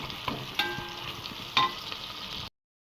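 Onions sautéing in oil for chicken biryani, a steady close sizzle with a few sharp stirring scrapes and clinks, cutting to silence near the end.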